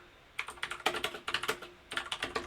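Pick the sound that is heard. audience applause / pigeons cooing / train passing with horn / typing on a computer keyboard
typing on a computer keyboard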